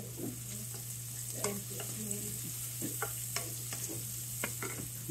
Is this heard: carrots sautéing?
yes